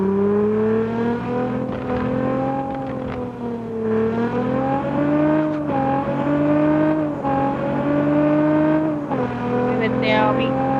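A car engine in the mobile game Car Parking Multiplayer hums loudly and steadily, its pitch dipping and rising slightly as the car drives and brakes, while someone talks over it throughout.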